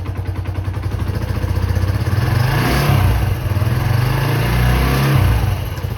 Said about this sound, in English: she sounds a lot better than I expected a 125cc bike to sound